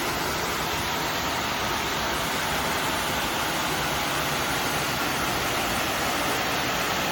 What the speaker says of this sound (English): The whole roof with the waterfall coming right off the roof.